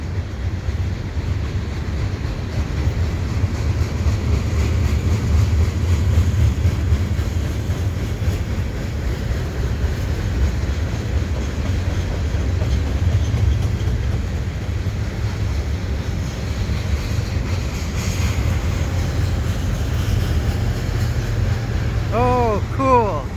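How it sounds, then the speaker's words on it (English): A CP freight train passing at Dorval, a long steady rumble with clattering wheels and wind buffeting the microphone, continuous and moderately loud, with faint squealing near the end. "There's a CP train there."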